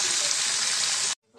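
Pieces of korameenu fish fry in a hot pan for a curry, giving a loud, steady, close sizzle that cuts off abruptly after about a second.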